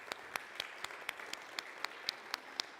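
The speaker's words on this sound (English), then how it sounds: "I think it's worth starting my message with a round of applause for all the young folks who've helped create our beautiful service today." Applause from a church congregation for the young people during a Sunday service: faint, sparse claps in a steady, evenly spaced rhythm, with no voices.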